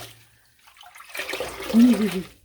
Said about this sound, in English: the yarn is rinsing